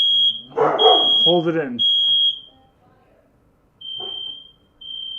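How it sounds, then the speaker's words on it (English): Household smoke and fire alarms going off inside a house during a power outage, a shrill continuous high-pitched beeping that cuts in and out, with someone talking loudly over it between stretches of alarm. "I have fire alarms that are randomly going off in my house"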